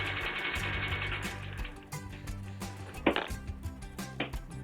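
An antique Singer sewing machine fitted with a spoon hemmer runs with a fast, rhythmic mechanical chatter, then slows into separate ticks and knocks of the needle and mechanism, close by and with no talking.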